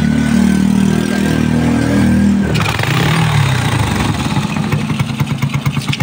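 A loaded engine with the clutch engaged runs and revs. It is a loud, close, continuous drone that shifts in pitch midway and grows rougher and more pulsing toward the end, with no talking.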